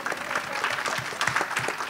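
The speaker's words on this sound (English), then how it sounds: "Let's give a round of applause for every specialist in this room." A school audience giving a round of applause for specialists, dense and continuous clapping from many hands, close and fairly loud with no talk over it.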